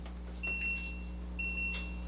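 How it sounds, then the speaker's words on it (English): LG washing machine control panel giving two short, high electronic beeps about a second apart, faint and close against a quiet background hum. "Nope, it's beeping twice because,"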